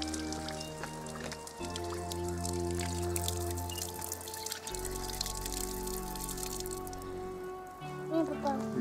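Cold water runs from a fountain along a coastal path near a beach, a continuous splash and trickle mixed with a strong tonal hum that shifts throughout.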